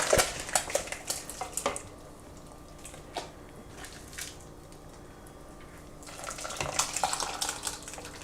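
Tomatoes scooped with a big ladle and poured into the hopper of an applesauce maker, wet squishing, scraping and clinking of metal against the bowl in bursts, quieter through the middle.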